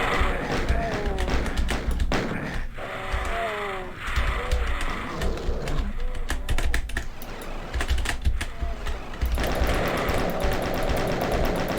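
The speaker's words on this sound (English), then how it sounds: "So you got the chain gun out here." Rapid automatic chain gun bursts fire in a first-person shooter game level, layered with thuds and game effects throughout, while a voice talks over the action.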